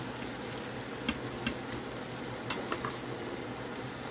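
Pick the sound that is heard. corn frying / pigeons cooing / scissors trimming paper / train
corn frying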